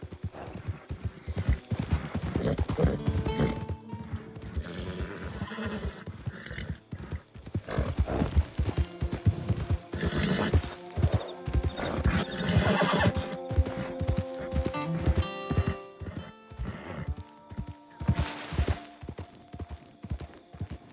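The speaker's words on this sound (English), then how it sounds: "today's stream is all about Flash riding a horse" Horse hooves clip-clop steadily while riding in the video game Red Dead Redemption 2, with several loud neighs and whinnies mixed over game sounds and music, no speech.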